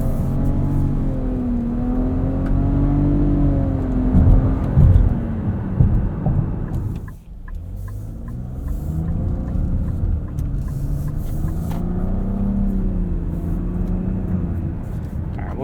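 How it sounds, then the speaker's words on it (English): A 2023 Nissan Rogue Platinum AWD with a three-cylinder turbo engine accelerates hard in sport mode, its loud throaty drone rising in pitch, dropping at a shift, then climbing again, heard from inside the cabin. "See what I mean about that 3-cylinder turbo? It sounds kind of neat. It's throaty."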